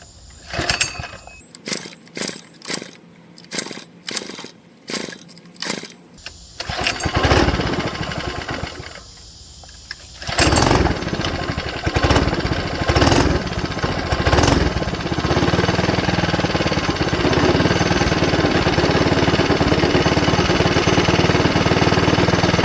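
A small Coleman 3hp go-kart engine sputters through several pulling attempts, then catches and runs, settling into a steady, loud idle close by.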